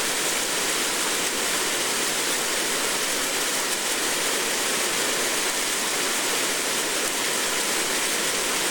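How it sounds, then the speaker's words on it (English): A waterfall pounds down hard in the Rockies under a full moon, a loud, steady, unbroken roar of crashing water filling the scene, with no voices. "I'll go down and get under the waterfall down below."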